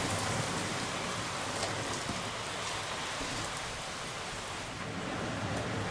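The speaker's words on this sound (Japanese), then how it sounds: "外で今すごい雨が降ってきました。" Heavy rain pouring down outdoors, a dense, steady hiss of countless drops striking surfaces, uniform and unbroken throughout, heard through a nearby open window with no talking.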